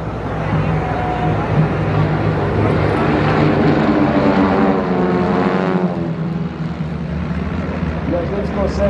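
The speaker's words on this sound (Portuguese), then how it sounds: "Ali vem o T25 na formatura de avante para a passagem." A formation of T-25 propeller trainer aircraft makes a pass at an air force academy air show, a steady droning engine roar swelling and fading with a slight pitch shift as they go by, under faint commentary.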